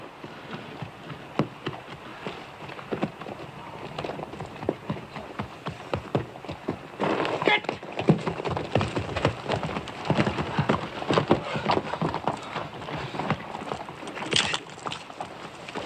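Steady rhythmic hoof clops of horses trotting, mixed with a constant hiss of rain; no one speaks.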